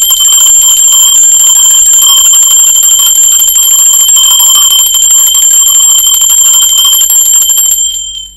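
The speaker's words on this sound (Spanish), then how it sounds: "Va campana, ser divino" A bell rings loudly and steadily, its bright, sustained metallic tone with a rapid trill holding for about eight seconds before it cuts off abruptly, with no talk.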